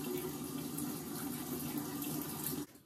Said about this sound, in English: So I just wash my face with water,